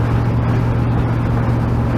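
A vintage Dodge A100 truck rolling down the road, heard from inside as a loud, steady engine drone with a low hum and constant road roar.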